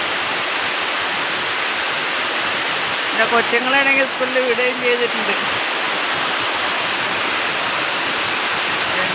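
A Kerala monsoon downpour pours down in a loud, unbroken hiss, while someone speaks briefly over it midway through.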